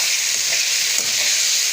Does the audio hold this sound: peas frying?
yes